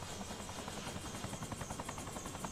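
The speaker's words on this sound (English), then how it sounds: "I mean, it is a small helicopter." A small helicopter in the zombie video game Dead Rising gives a continuous rotor chop with a fast, even beat. The engine whine sits behind it at a moderate level.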